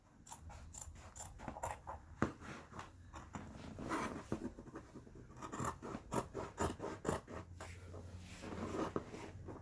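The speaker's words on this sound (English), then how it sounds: "all you're doing is cutting along the lines" Scissors cut through fabric along marked lines while sewing a loincloth, producing close, irregular snipping and rustling strokes that come in quicker bursts toward the end, with no talk.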